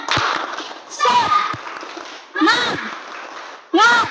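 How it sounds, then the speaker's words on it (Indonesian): Elementary schoolchildren in a classroom do a rhythmic spirit clap with chanted voices, several sharp group claps falling in distinct bursts between shouted call-and-response words. "Coba satu kali tepuk semangat."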